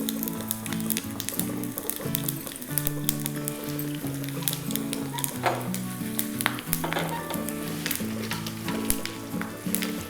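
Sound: urad dal, chana dal and garlic frying in tempering

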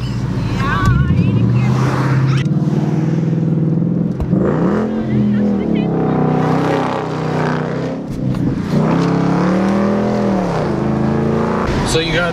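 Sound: supercharged car engine revving

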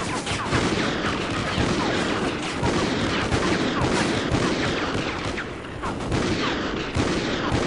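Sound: gunfire from shooting in Call of Duty: Ghosts video game

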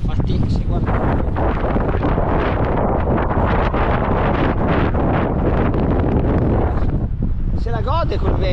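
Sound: strong wind blowing on a lakeside bike path

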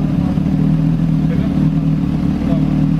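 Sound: Yamaha Fazer 600R motorcycle with GRS Racing exhaust

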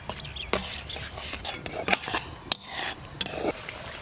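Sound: stirring and sautéing spice masala with tomato and yogurt in a pan

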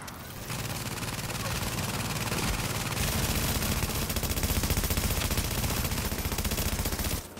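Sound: turret firing at a boss in the video game The Division

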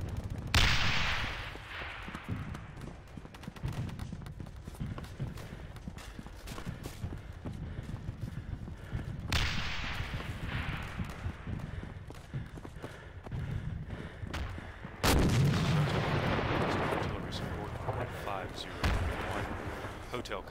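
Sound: artillery fire in the video game Darkest Hour: Europe '44-'45

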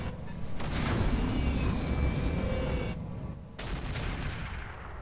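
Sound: mech autocannon fire in video game Roguetech

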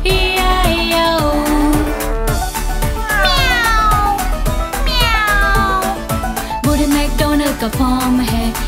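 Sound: cat meowing in nursery rhyme

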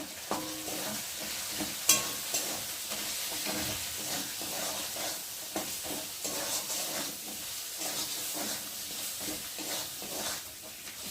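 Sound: spice paste with ginger, cumin and green chillies frying

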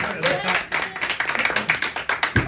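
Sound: audience clapping at an acoustic guitar event

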